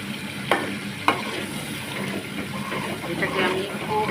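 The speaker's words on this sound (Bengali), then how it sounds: "রান্না করছি খাসির কলিজা।" Goat liver frying in a pan while being stirred, a steady sizzle with a couple of sharp utensil clinks near the start and bubbling hiss throughout.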